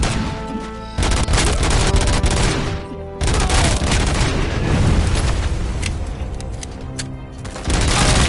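Grenade explosions in the Robocop video game: loud booming blasts and crashes layered with heavy gunfire, in repeated bursts with brief dips between them.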